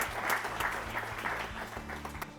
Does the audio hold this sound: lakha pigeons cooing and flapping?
no